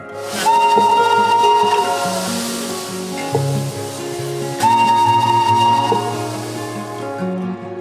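A steam train whistle sounds twice in long, steady blasts with hissing steam and chugging rhythm beneath, fairly loud and close.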